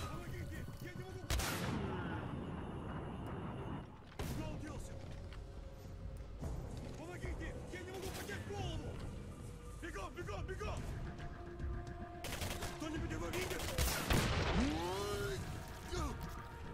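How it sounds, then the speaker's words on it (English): Gunfire in the video game Singularity: repeated sharp gunshot bursts at around 1.5, 4 and 12–14 seconds over a steady bed of game ambience and effects, with someone talking throughout. "Always getting shot at."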